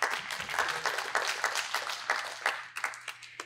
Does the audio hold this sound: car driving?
no